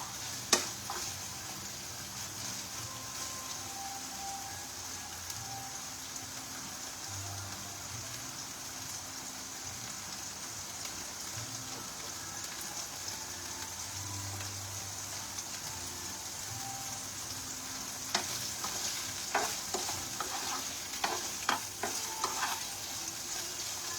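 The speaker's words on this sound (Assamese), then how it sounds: "ধুনীয়াকৈ পনীৰখিনিও মই এয়া বাটাৰত অলপমান চেলো ফ্ৰাই কৰি লৈছোঁ" Paneer shallow-fries in butter with a long, even, low hiss and a fine rain-like patter of spitting fat, growing busier with crackles and light stirring in the last few seconds, with no talking.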